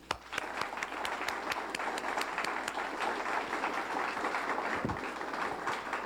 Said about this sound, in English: I'd like to ask you a big round of applause for all the recipients this evening.